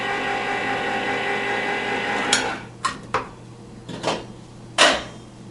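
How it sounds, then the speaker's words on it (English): Can of spicy sauce opened in a home kitchen, with several short sharp metallic clicks and scrapes spaced a second or so apart over a steady low background hum. "Let's first open up this can of sauce."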